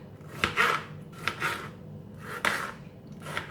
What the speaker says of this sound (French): Je prends une tomate que je coupe en petits morceaux